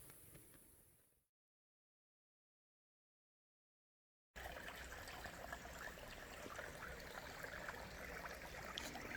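Small stream trickling near a campsite on an overnight trek, a steady, fairly close wash of running water that cuts out briefly and returns continuous and even.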